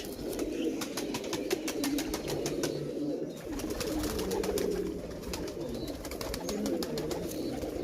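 Pigeons coo over and over in low, throaty murmurs, with a few crisp clicks and rustles close by and a steady soft backdrop.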